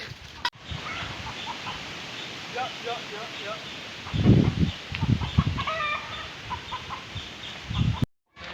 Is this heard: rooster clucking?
yes